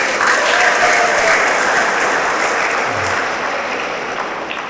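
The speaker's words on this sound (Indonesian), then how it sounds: "Kalau mau tepuk tangan biar lebih enak" An audience at a university graduation ceremony applauds in a loud, sustained wash of clapping that fills the room and tapers slightly toward the end.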